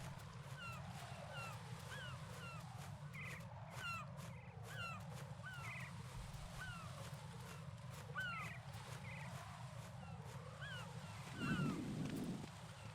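Seagulls in the video game Metal Gear Solid 2 cry again and again in quick, scattered calls over a constant low rumble of wind and water.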